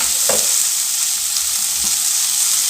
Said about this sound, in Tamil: அடுத்தால நம்ம இதில் தக்காளி சேர்த்து வதக்கிக்கலாம்.